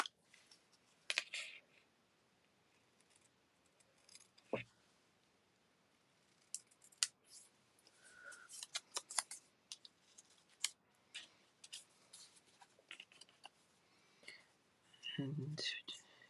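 Paper is cut with scissors for a scrapbook layout, quiet snips and rustles spaced irregularly under faint whispered talk, with a few soft clicks and handling sounds.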